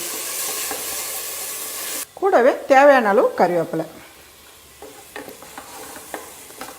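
A pan sizzles with a steady frying hiss as onion is sautéed with ginger garlic paste, then a person speaks briefly over it before the sizzle settles back to a quieter simmer.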